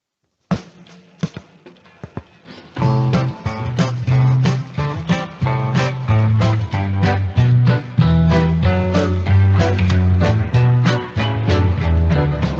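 An AI-generated rock song opens with sparse percussive taps, then a full band with bass and drums enters, with a steady beat and busy rhythm.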